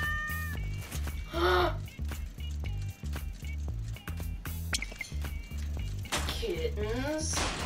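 A cat character in the video game Goat Simulator meows a few times, with clear drawn-out calls over a steady thumping game soundtrack.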